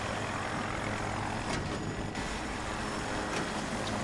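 A helicopter in Battlefield 2042 drones steadily and loudly throughout, with a dense broadband rotor-and-engine roar and a few brief bursts of game noise layered on top.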